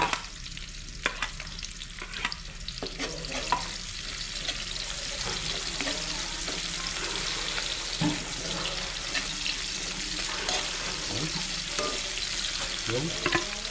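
Onion frying in a pan after garlic has browned, a steady broadband sizzle with stirring and scraping running throughout at moderate loudness, no voices.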